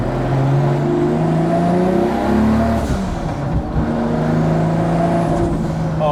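A Toyota Supra drift car with a Garrett G35 1050 turbo and T56 gearbox drones loudly from inside the cabin, the engine note rising and falling as it revs and pulls, continuous throughout with no talking.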